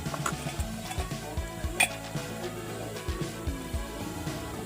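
Chili powder stirred into hot frying oil in a pan for a Kerala-style spicy sardine curry, with a steady sizzle and repeated scraping, clinking strokes of a spoon against the pan, close and fairly even.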